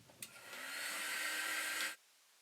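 A hair dryer switches on and blows for about two seconds while drying a tiered tray, giving a close, steady airy whoosh that cuts off abruptly.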